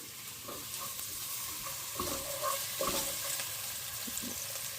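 Onion-spice masala for Karnataka-style mutton chops fries and sizzles in a pan, a continuous close hiss broken by several spoon-stirring scrapes and clatters, without talk.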